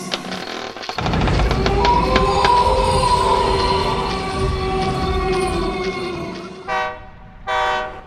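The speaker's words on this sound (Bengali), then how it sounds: "বিলাসপুর স্টেশনে যখন ট্রেন এসে পৌঁছেছে" A train rolls into a station at night with rumbling wheels and rattling carriages, a sustained horn blaring over the noise before it settles, followed by two short horn toots near the end.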